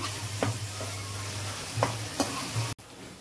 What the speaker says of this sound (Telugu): ఈ పేస్ట్ కొంచెం గుజ్జుగా తయారయ్యే వరకు వేయించుకుందామండి.